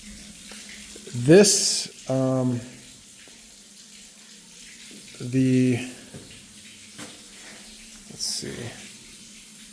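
Water drains steadily from the leaking bolts of a 4-inch copper-to-CPVC pipe flange in a recirculation pump room, a faint constant rush running under a man's brief speech.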